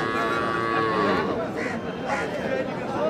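A cow or calf moos loudly and close by at the Ambari cattle market in Dinajpur, a long drawn-out low call with a second bellow following, while people chatter around it.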